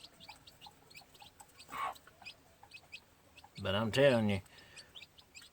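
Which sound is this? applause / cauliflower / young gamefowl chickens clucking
young gamefowl chickens clucking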